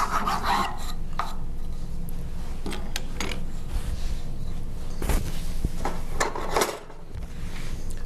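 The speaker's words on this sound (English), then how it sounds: "Use the rat tail file and rat tail rasp to shape the wood also" A rat tail file and rat tail rasp shape a piece of wood, giving repeated scraping strokes in an uneven rhythm, fairly close, with no voices.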